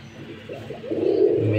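A pigeon kept by a fancier coos in a short, low, soft burst that swells toward the end, heard close by with faint background noise.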